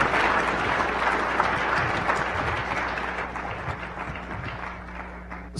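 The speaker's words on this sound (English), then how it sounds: "give them a warm round of applause for their work" An audience at a natural gas symposium claps for a panel, a dense, sustained spread of applause from a crowd that slowly thins toward the end, heard from within the hall.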